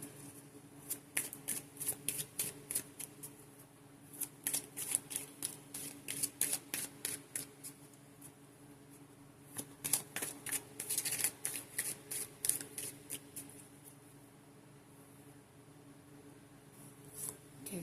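A Romance Angels oracle card deck is shuffled in repeated bursts of rapid, crisp riffling and flicking, close and fairly soft, separated by brief quiet pauses, with no voices.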